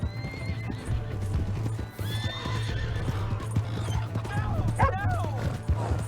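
Horse hooves clip-clopping and a horse whinnying in Red Dead Redemption 2, with steady hoofbeats throughout and rising, wavering neighs near the start and again around the fifth second, heard over a low rumble and some background voices.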